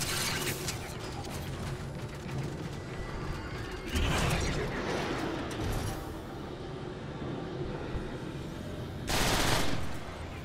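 Gunfire from a weapon in Transformers: War for Cybertron rattles in sustained bursts with mechanical clatter, including a sharp loud burst near the end, set against steady game background noise.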